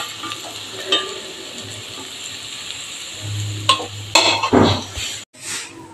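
Beef curry with chilies and curry leaves is stirred in a small pressure cooker, with scraping strokes, a few metallic clanks and a faint sizzle underneath, sounding uneven and close.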